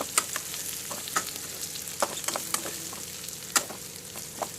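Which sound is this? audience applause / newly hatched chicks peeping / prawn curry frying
prawn curry frying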